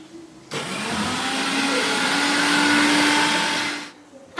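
A mixer grinder grinding cumin and black pepper: a steady, loud motor whir with a gritty rattle of spice, starting abruptly, running about three and a half seconds, then winding down.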